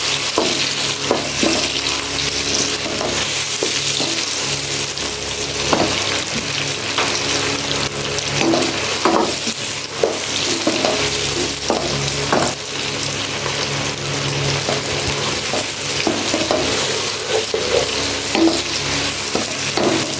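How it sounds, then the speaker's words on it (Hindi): Chopped tomatoes fry loudly in a pan for a spicy liver (kaleji) curry, a dense constant sizzle broken by frequent scraping stirs and spoon taps, close up with no speech. "टमाटरों को हम 1 से 2 मिनट के लिए भून लेंगे ताकि अच्छी तरह मिक्सअप हो जाए।"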